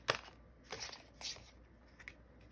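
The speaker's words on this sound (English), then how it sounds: "So I'm gonna pull some more cards" Tarot cards being shuffled and pulled from the deck, heard as three or four short papery riffling bursts spaced apart, close and fairly quiet, with no talking.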